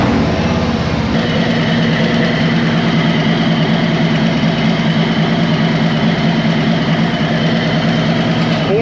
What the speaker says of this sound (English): So, we're just going to fire it up and use the 850, 900 RPM